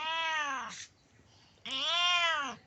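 A cat gives two loud, drawn-out meows close by, separated by a short pause, with no talking.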